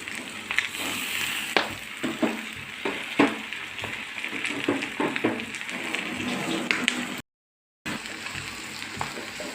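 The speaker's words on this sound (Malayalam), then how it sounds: "അതിനകത്ത് കിടന്ന് ഇറച്ചി പോർക്കും മുരിഞ്ഞോളും സവോള വാടിക്കോളും." Pork and onions frying in a pan for chilli pork give a steady, close sizzle with crackles and spatter pops throughout, cut by a brief moment of silence near the end.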